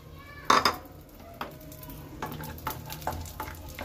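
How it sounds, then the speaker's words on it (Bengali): Cashews and raisins fry in hot ghee, a sizzling crackle with a sharp clatter as they go in, followed by spoon stirring and light scraping against the pan. "কাজু কিশমিশটা একটু ভালোভাবে ভেজে নেব।"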